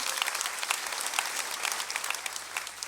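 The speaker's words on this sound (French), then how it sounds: "est-ce qu'on peut vraiment, en applaudissant, souhaiter la bienvenue?" A church congregation applauds in welcome, a steady wash of many hands clapping at moderate distance with no voices over it.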